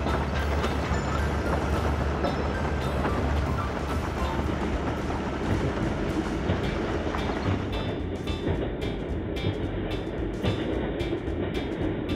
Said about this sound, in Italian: Il treno lentamente va per le montagne.